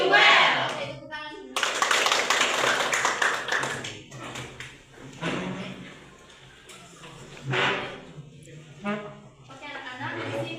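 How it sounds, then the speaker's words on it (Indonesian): A class of children claps together in a classroom, bursts of rhythmic patterned clapping alternating with a teacher's and kids' voices speaking between and over the claps. "Oke, tepuk tangan."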